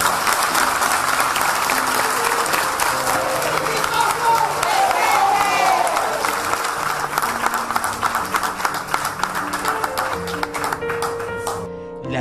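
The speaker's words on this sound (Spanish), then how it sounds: "vamos a darle un fuertísimo aplauso" Mourners at the funeral mass for actor Ricky Tosso break into long, strong applause, a thick wall of clapping from a large crowd, with voices and tonal sounds mixed in as it gradually thins.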